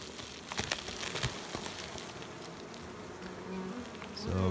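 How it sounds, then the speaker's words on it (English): Close, dense buzzing of many honey bees in a hive box, steady and continuous, with occasional crackling and knocking sounds. "So this top box is right full of bees."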